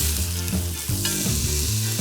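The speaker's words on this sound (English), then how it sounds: "Now we're gonna put this in the pan. Oh yeah, listen to that sound, baby." Pot roast meat sizzling loudly as it sears in a hot pan, a steady close crackle with a few stirring or shifting sounds, and no talking.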